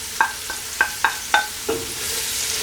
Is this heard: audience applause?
no